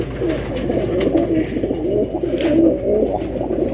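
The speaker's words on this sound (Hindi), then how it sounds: "ये भी फ़कीर गुल कबूतर उस्ताद जी अब निकाल के दिखा रहे हैं" A Faqeer Gul pigeon coos in soft, low, rolling calls close by over a steady background murmur, with no talking.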